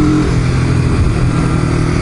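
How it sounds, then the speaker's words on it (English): A faulty motorcycle runs roughly, its engine a loud, close, continuous drone with a rough pulsing edge that holds steady throughout, with no talk. "Maybe that's why the bike's running shitty."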